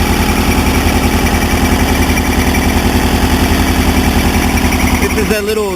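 A 1977 VW Bus Riviera camper engine idles loudly and close, a steady rapid pulsing rumble that runs evenly throughout before a slight change in its final moment.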